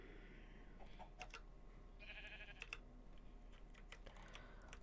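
Sheep bleats from the Minecraft video game, faint and intermittent, heard alongside soft clicking like keyboard typing and low game ambience.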